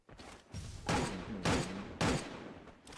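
Bursts of gunfire from the mobile battle-royale game Free Fire during a competitive esports match, coming as three loud, closely spaced volleys with a few sharper shots between them.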